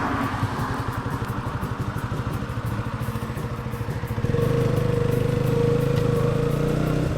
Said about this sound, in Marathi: धक्का देऊन स्टार्ट करत आहेत.